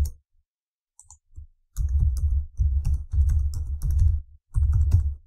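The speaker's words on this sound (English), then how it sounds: "Enter your login email and password." Typing a login email and password on a computer keyboard, a quiet pause and a few isolated taps followed by steady bursts of close, crisp key clicks in quick rhythmic runs.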